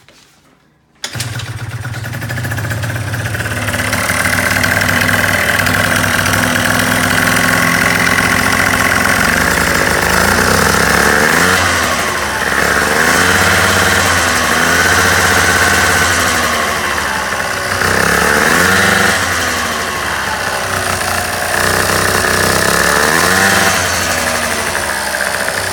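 A scooter engine cranks over and fires, then settles into a steady, loud idle with a rhythmic mid-pitched drone and periodic surges as the clutch begins to grab, close and continuous without talk.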